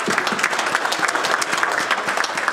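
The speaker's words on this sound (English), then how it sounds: "Let's give everybody a round of applause here." An audience applauds steadily at a VIP gala opening the 2020 West Virginia International Auto Show, a dense, even wash of many hands clapping throughout with no voices on top.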